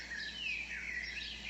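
Birds singing among trees, thin faint chirps and a few drawn-out whistled notes over a quiet, steady background.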